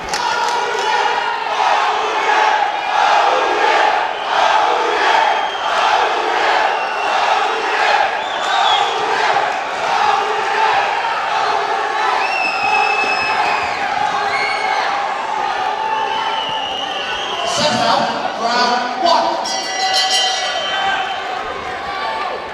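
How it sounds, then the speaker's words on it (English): Boxing crowd at York Hall during a cruiserweight bout, a dense, loud roar of voices with shouts and cheers rising throughout, a sharper burst of yelling near the end. "I feel like the crowd at York Hall is getting bigger and louder as each fight goes on."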